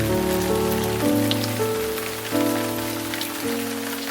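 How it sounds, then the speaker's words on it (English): Steady rain falling on a surface, a continuous dense patter with a sustained low tonal hum running underneath, no voices. "Put the rain on."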